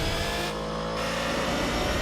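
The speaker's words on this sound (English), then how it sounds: "Nice engine sound from the Ford GT" A Ford GT engine revs in Gran Turismo 4 with a loud, continuous throaty drone and a brief shift in tone partway through, heard alone.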